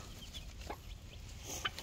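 A hen clucks during chick hatching on a small backyard poultry setup, a few short, faint clucks scattered over steady low background noise with no talk.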